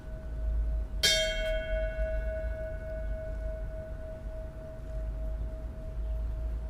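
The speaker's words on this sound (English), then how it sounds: "we ring the bell for the 6 people who died that day" A single memorial bell struck once, a loud clear clang with a long ringing tone that slowly decays over several seconds above low outdoor rumble.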